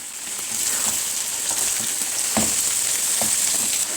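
Tomatoes dropped into a hot frying pan of sauce give a steady, bright sizzle throughout, with a few soft knocks from stirring or handling.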